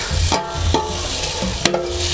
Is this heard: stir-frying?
yes